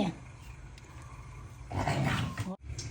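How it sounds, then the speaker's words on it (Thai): A litter of eight small puppies growls and yelps in a noisy, busy setting, a burst of close, rough little growls swelling in the second half, with faint voices in the background. "ลูกหมาน้อย"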